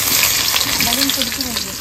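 Chopped onion going into hot oil with bay leaf and dried chillies in a village kitchen, a loud, dense sizzle close up throughout, with a voice talking faintly underneath.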